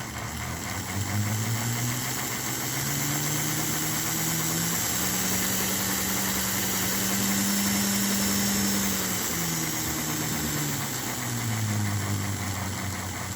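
A model steam locomotive, an NGS Royal Blue, runs with a steady mechanical hum and buzzing drone that rises and falls in pitch while its smoke unit puffs, close and continuous with no voices.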